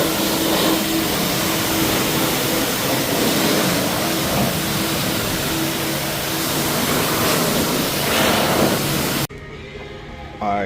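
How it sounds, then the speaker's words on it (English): Powerful air blower driving water off the ceramic-coated paint of a car, a steady loud broadband roar that runs without a break, then cuts out abruptly near the end, leaving quieter background. "Blowing that water right on off."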